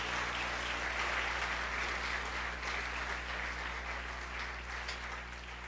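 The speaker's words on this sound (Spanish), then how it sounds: "Dele fuerte palmas al Señor, amado hermano y hermana." Steady applause from a church congregation, dense clapping that carries on for several seconds over a low constant hum in the room.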